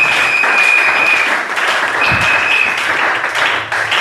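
A church congregation claps together in a dense, sustained round of applause that carries on for several seconds, loud and close, with a faint dip partway through.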